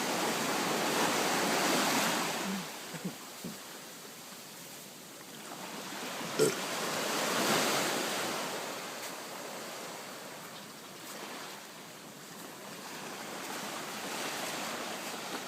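Ocean waves roll in at high tide on the Ilocos Norte coast, a steady broadband surf roar that swells and eases, with no talking.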